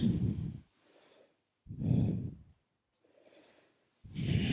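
Deep breaths drawn in and out through the nose during a yoga session: three full, close inhalations with softer exhales between them, steady and unhurried, with no talking.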